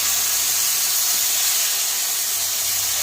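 Steady, loud hiss of steam as water is splashed into a pan of hot fried vegetables and spices for a bata fish curry, continuous throughout without voices.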